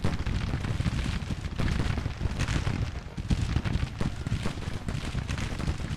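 Cannon battery fire rumbles through a Grand Tactician: The Civil War battle, with a dense, continuous roar of booming artillery and explosions, loud and sustained and broken by frequent heavy thuds.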